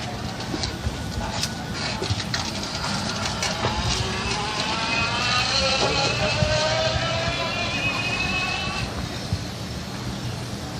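An electric scooter on a test ride, heard as a continuous broadband rush of motion and wind noise with a faint rising whine, steady in level throughout, with no clear voices.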